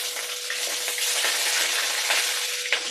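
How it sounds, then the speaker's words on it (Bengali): Loud, dense sizzling of fish frying in hot oil, constant crackle with occasional sharper spatters and pops, no voices. "এত ফাটছে না মাছগুলো ফাট ফাট ফুট ফুট করে"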